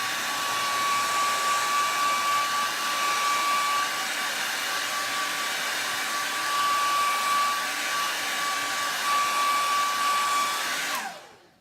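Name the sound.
hair dryer blowing to dry a welcome sign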